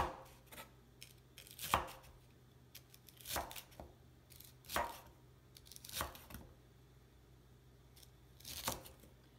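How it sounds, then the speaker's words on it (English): Ingredients for German potato salad being chopped with a knife on a board, a few separate crisp cuts spaced irregularly a second or so apart, close but soft, with no talking. "After I chop this, I will keep it all in a bowl until it's ready to mix in with the potatoes."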